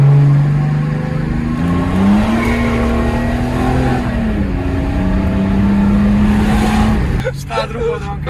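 A Mercedes diesel car fitted with a new exhaust revs loudly up close, its engine note rising, holding and falling in long droning sweeps before cutting off abruptly near the end.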